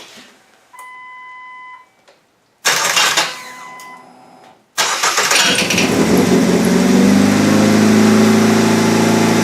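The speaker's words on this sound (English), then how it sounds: "She won't start up because I have the transmission disconnected, so I got to jump the starter." A Ford Fusion project car with its transmission disconnected, started by jumping the starter: two short bursts of starter whine, then a longer crank that catches and settles into a loud, steady idle.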